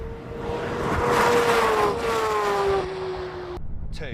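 Porsche and Maserati cars in a rolling race from 50 mph, their turbo engines accelerating hard as a loud, rising engine roar that holds steady and then cuts off abruptly near the end.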